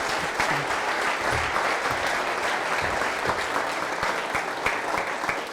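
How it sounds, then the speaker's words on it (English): An audience at a farming talk applauds loudly and steadily, a dense wash of clapping that holds at an even level throughout. "That's a rousing applause."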